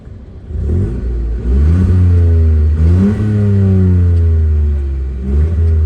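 A Ford Fiesta ST engine in normal mode revs up twice from idle to about 3,000 rpm, climbing in pitch then dropping back, moderately loud and close, with a smooth mechanical hum between revs.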